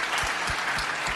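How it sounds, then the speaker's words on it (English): Audience clapping at a media event after a Blue Origin space flight, a few soft, distinct claps spaced at a steady rhythm over a hushed room. "Yes, please clap to that."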